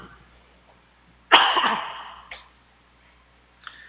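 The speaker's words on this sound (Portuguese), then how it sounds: "Peço desculpa aí pela tosse" One harsh, close cough that trails off into a raspy exhale, followed by a faint short sound, otherwise quiet.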